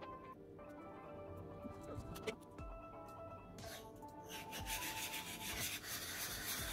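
A Titan Chinese straight razor honed on a whetstone coated with slurry, steady close scraping and rubbing strokes with a gritty, wet texture, growing denser and louder toward the end, with no talk over it.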